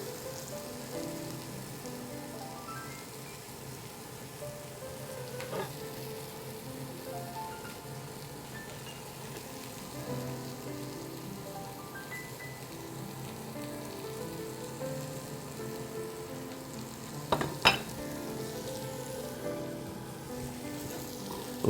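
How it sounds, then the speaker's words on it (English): Burgers sizzle steadily on a hot cooking surface, a soft, even crackle running throughout with a couple of sharp clicks near the end, no talking. "while we got the burgers cooking"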